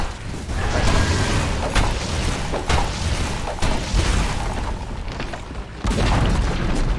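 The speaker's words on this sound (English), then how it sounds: "Dire's middle tower has fallen." A Dota 2 tower collapses in a heavy, sustained rumble of booms and creaking, grinding debris, loud and continuous with sharp impacts scattered through it.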